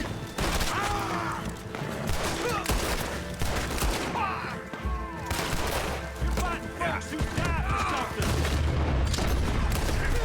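Gunfire fills a Red Dead Redemption 2 shootout, with dense repeated shots and booms alongside game sounds that continue without pause.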